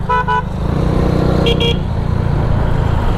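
Busy road traffic on Jokno Boulevard, with a loud, continuous engine rumble from many cars and motorcycles close by and several short horn toots near the start and in the middle.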